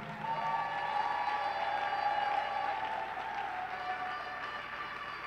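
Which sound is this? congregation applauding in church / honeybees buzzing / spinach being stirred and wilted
congregation applauding in church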